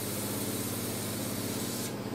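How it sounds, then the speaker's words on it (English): An agricultural sprayer's twin fan nozzle hissing steadily, a close, continuous broadband spray that runs evenly and alone for about two seconds. "this is one way of taking that coarseness out of the spray by dividing it across"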